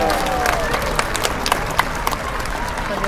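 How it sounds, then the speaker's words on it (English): An audience at the SeaWorld San Diego orca show breaks into applause, a broad sustained clapping with crowd noise and a few sharper claps standing out, while a voice carries faintly over a loudspeaker. "Let's give Orchid a big round of applause."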